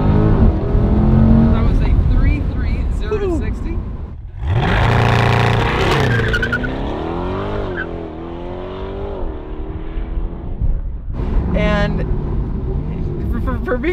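A base-model C8 Corvette makes a launch-control 0 to 60 run, its engine roaring loud and close, with a pause at gear changes and a climbing, rising tone as it accelerates hard, while people talk and exclaim inside the car.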